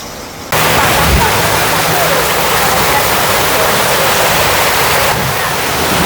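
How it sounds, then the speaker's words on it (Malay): Heavy rain pouring down in a dense, loud, steady roar during a neighbourhood Hari Raya celebration, rising abruptly after a quieter moment, with a low thump near the start that may be distant thunder. "Hujan makin lebat. Dengan kilat, dengan guruhnya."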